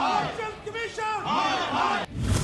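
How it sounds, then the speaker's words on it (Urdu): Protesters outside the Pakistani High Commission in London chant slogans against the election commission and government, a loud crowd of voices shouting in rhythmic bursts, ending in a sharp knock and noisy rumble. "مظاہرین نے الیکشن کمیشن اور حکومت کے خلاف شدید نعرے بازی کی۔"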